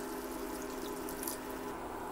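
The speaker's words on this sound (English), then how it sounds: "Add a little bit of water." Water is added to a simmering pan of cauliflower and potato chili, a steady continuous wash of pouring and bubbling liquid at constant loudness throughout.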